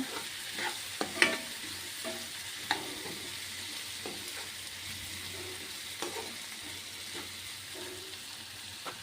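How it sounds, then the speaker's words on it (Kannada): Stuffed brinjal being stirred into tomato and onion frying in a pan, with soft sizzling under intermittent scraping and clacking spoon strokes, close and fairly quiet. "ಇದಕ್ಕೆ ನಾವು ತುಂಬಿಕೊಂಡಿರೋಂತಹ ಬದನೆಕಾಯಿನ ಹಾಕಿ ಚೆನ್ನಾಗಿ ಮಿಕ್ಸ್ ಕೊಡಬೇಕು"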